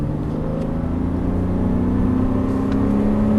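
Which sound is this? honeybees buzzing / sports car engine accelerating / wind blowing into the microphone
sports car engine accelerating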